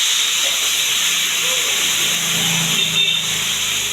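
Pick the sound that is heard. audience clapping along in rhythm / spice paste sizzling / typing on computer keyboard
spice paste sizzling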